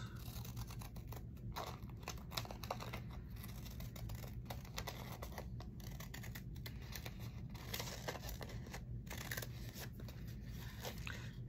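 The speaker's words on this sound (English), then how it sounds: "it's easier for me just to cut it straight with these scissors" Scissors snip through book pages and washi tape in a string of quick, close, faint crisp cuts and rustles, with no one speaking.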